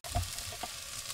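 Onions sizzle faintly as they are sautéed and stirred in a bowl on a Kamado Joe grill, a brief soft crackle with a couple of light scraping stirs.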